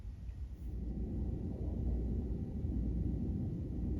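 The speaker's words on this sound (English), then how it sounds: "This is turning out to be the summer of storms." Thunder from a summer storm rolls as a low, continuous rumble that swells slightly and holds steady, distant and faint, with no voices.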